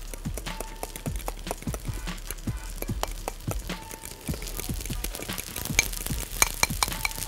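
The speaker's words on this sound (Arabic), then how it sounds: "هقلب الصوص بتاعي." A spoon stirs white sauce in a pan while cooking at home. The scraping strokes come close and steady, with a fast repeated rhythm, soft sizzling underneath and no talking.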